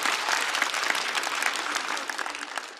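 Studio audience at a stand-up comedy show breaking into sustained, dense applause, loud and close, with steady clapping throughout and no talking over it.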